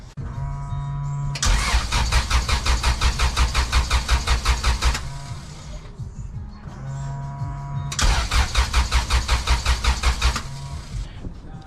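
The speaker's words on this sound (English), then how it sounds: "I'm gonna go ahead and fire up the car and see how it sounds." A Honda CRX with a custom axle-back muffler cranks repeatedly without firing, two long bursts of loud, rhythmic starter churning separated by a brief pause, close to the microphone with no talk.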